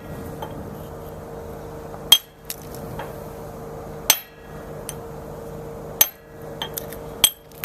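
Sharp metallic hammer strikes ring out one at a time, spaced a second or two apart, knocking the edge off granite to rock-face it, over a steady low electrical hum.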